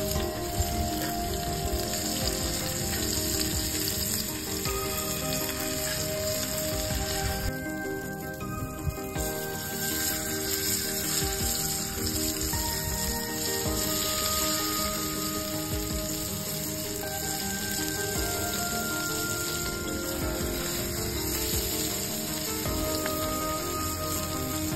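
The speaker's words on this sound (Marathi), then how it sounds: "हा तर मित्रांनो, एवढे आपण फ्राय केलेले आहेत मासे" Fish frying in a pan outdoors by a river, a loud, dense, continuous sizzle and crackle held steady throughout, close up and with no talking.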